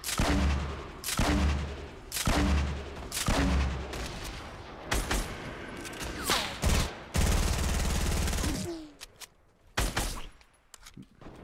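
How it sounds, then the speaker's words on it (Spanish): Gunfire from Fortnite aimed at the player, bursts of loud shots in rapid clusters with pauses, near and sharp, fading toward the end. "¿Quién es el agresivo que me está disparando?"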